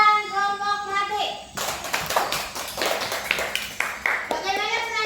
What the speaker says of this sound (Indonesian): tepuk tangan dulu untuk penampilan kelompok melati